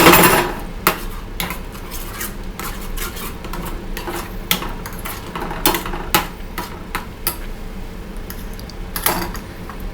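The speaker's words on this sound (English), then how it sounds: "Let's mix that up a little bit more." A utensil scrapes and clinks against a bowl, stirring a breakfast pizza mixture with egg in a steady run of sharp metallic taps and scrapes, close and loud, without speech.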